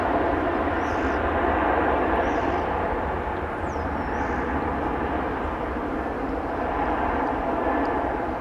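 An American Airlines jet in oneworld livery at DFW Airport makes a steady, broad engine roar that holds at a moderate distance throughout.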